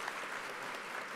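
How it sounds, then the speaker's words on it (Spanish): An audience at a conference session in Huancayo claps after a talk, a brief, even burst of applause at moderate level with no voices over it. "Un aplauso, por favor."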